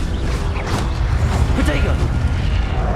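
The Incendio fire spell in Hogwarts Legacy, cast amid other spells: a chain of loud, boomy magical bursts and whooshes rolling one into another without a break.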